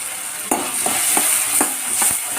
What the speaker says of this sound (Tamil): நல்லா தக்காளியும் வெங்காயமும் நல்லா வதங்கிருக்கும்